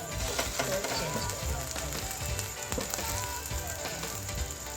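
Egg omelette sizzles steadily in a pan, a continuous dense crackle and hiss at moderate loudness with small pops and light clinks throughout.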